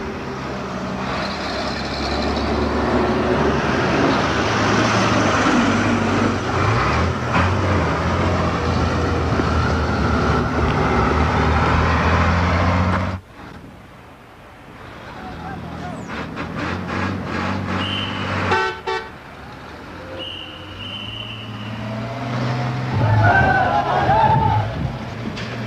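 Traffic of decorated trucks on a mountain road in Gilgit: steady loud engine rumble and road roar, a sudden drop to a quieter stretch, then horns and engines building up again, with no talking.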